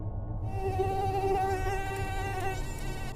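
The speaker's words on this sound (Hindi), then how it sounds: "पूजा की नींद अब गायब हो चुकी थी एक मच्छर के कारण, जो कि पिछले आधे घंटे से परेशान कर रहा था पूजा को।" A mosquito buzzes steadily and close by at night, a thin, high, continuous whine that holds for a few seconds with no voices over it.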